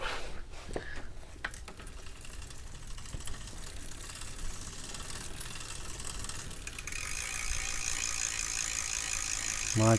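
A bicycle rear derailleur and drivetrain spin freely after a squeak fix, giving a steady close ratcheting freewheel tick that carries on with no one talking.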